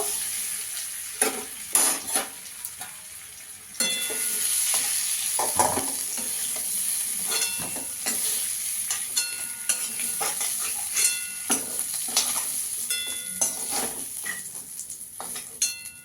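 Kohlrabi pieces frying in a pan on a low gas flame for a katla fish curry, giving a constant sizzle punctuated by sharp spatula scrapes and knocks against the pan, close and alone.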